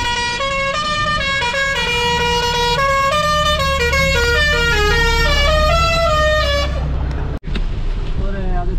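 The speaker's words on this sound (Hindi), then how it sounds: "अरे हॉर्न हो जा" A car horn honks repeatedly in a rapid, melodic pattern of tones, loud and close, over steady highway road noise in the rain in Rajasthan, then stops abruptly.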